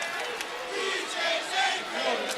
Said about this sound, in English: Now they're chanting PJ's angry.